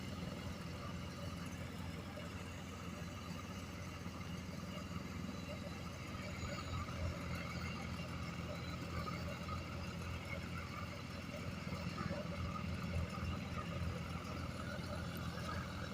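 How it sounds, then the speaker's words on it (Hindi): A steady, continuous tractor engine drone powering a wheat threshing machine nearby, running without pause throughout with a constant low rumble and mechanical whir. "आपको आवाज़ आ रही होगी ट्रैक्टर की"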